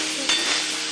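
Chopped tomato sizzles in a hot tempering in a pan, giving a short, steady frying hiss with a slight stir.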